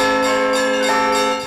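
Church bells ring continuously at a bell-ringing festival, a sustained, rich metallic peal with overlapping tones and a fresh strike near the middle, fairly loud and close, with no talk.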